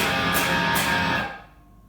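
A single full electric guitar open chord, mainly open strings, rings out with rich, sustained strings, then fades and is cut off toward silence.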